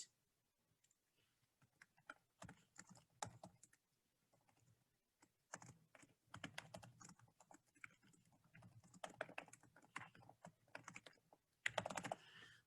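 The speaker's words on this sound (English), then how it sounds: "I'm going to finish typing in the rest of my text." Bursts of computer-keyboard typing on a desktop, quick runs of close, crisp key clicks separated by short pauses, no voices present.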